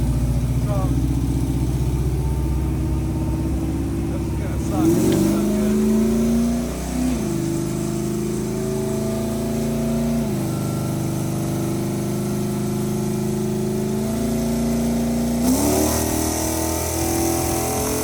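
LS V8 engine on a dynamometer, revving and rising in pitch during a pull, then settling and rising again, loud and continuous with people talking.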